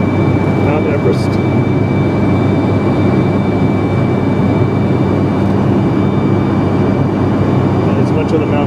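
A loud, steady roar of airplane cabin noise fills the whole stretch on Air flight 411 from Kathmandu to Paro, a dense constant rumble with no breaks.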